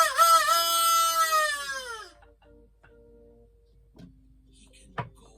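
A rooster crowing sound effect rings out as one long, strident cock-a-doodle-doo lasting about two seconds, followed by quiet with a few faint clicks and a short thump.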